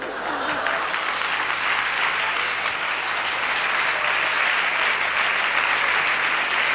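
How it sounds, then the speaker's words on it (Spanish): Steady, dense applause from a stand-up comedy audience, loud and sustained throughout without a break, with a faint tonal hum underneath. "Ahí recuerdo que entró el primer aplauso"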